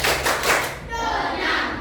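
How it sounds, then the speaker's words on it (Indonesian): A few claps ring out in a classroom, a short run of close hand claps with dull thumps, then fading into a softer rustle as the room settles. "Tepuk tangan"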